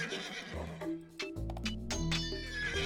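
Age of Empires 2 HD gameplay gives a sharp horse neigh and whinny followed by clip-clopping hooves, over a quiet game soundtrack.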